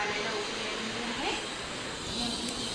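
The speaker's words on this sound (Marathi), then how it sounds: "पाण्याला उकळी आलेली आहे." Salted water comes to a hard boil in a pot on a gas stove, a dense, continuous roaring hiss that stays even throughout, with a voice faintly present underneath.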